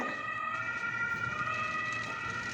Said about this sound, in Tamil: இங்கே ஒரே சைரன் அடிச்சுக்கிட்டு போலீஸ் வந்து போகுது